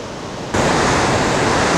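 Rushing water of the Potomac River at Great Falls, a wide river split into several streams, gives a steady broadband roar that jumps louder partway through and holds close and continuous with no talk.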